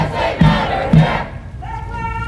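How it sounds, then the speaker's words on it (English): Protest crowd chanting in unison in Stillwater, Minnesota, rhythmic shouted phrases with accented beats, followed by a rising sustained tonal cry over the crowd; loud and close. "lots of chanting."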